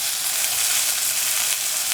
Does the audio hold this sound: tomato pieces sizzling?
yes